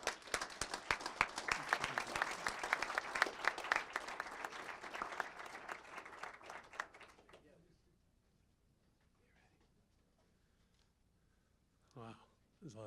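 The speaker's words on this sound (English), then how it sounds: "Let's give him a round of applause." A city council audience applauds firefighter Harper with sustained, dense clapping for about seven seconds, then the room falls quiet before a voice briefly starts speaking.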